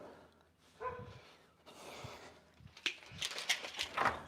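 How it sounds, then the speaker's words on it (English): A pet dog barks and yips indoors, a handful of short, irregular barks that grow louder and busier toward the end, heard fairly close with no one speaking. "My dog's barking."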